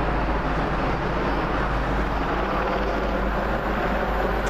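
A helicopter passes overhead near the railway at Kings Langley, its rotor drone a loud, steady, throbbing rumble that fills the whole stretch without a break.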